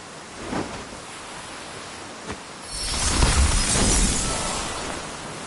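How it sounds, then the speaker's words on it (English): An ice magic spell in Octopath Traveler 2 forms an ice boat: a crackling, shattering burst that builds into a sustained icy rush after a couple of faint clicks. "Storm of ice, arise."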